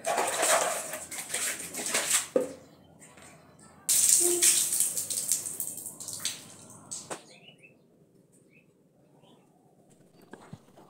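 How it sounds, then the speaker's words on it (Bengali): Running water splashes and drips as hands and face are washed with soap at a tap, close and uneven at first, then fading to quiet trickles and a few drips. "তো দেখো আমি সাবান দিয়ে হাত মুখগুলো ধুয়ে নিচ্ছি"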